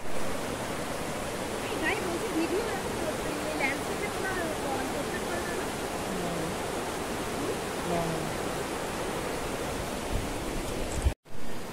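Steady broadband roar of a waterfall in Buxa Tiger Reserve, a continuous wash of falling water heard close and fairly loud, with faint voices in the background and a brief dropout near the end.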